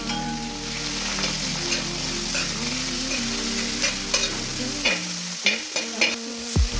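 Chopped onions fry steadily in a pan for chicken curry, a dense, close sizzle running throughout, with a few sharp stirring clatters toward the end as the hiss thins.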